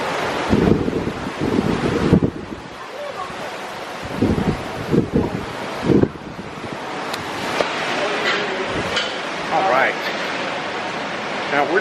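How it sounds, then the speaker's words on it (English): Strong gusts buffet the microphone on the open deck of the Disney Fantasy cruise ship in 6 to 9 ft seas, with a steady roar of wind and churning water and bursts of heavy rumble. "it is quite blustery and rough"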